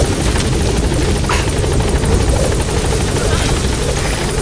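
A helicopter in Metal Gear Solid 5 thrums loud and close with a steady, continuous rotor chop that fills the whole stretch.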